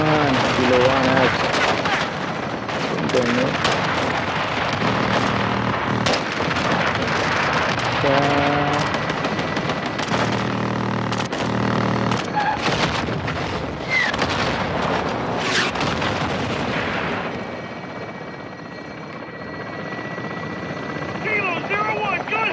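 Air support fire in Call of Duty Modern Warfare 2 on PS5, with a helicopter's steady rotor drone under loud repeated gun bursts and booming explosions, while voices talk over the radio throughout.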